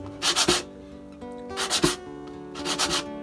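Sanding segments of iroko and maple wood, three distinct passes of abrasive rasping in steady strokes, close and fairly loud over a faint hum.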